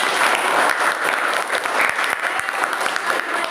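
Students in a classroom clap together after a lesson on electrolysis, a loud, dense burst of applause that holds steady throughout with no talking.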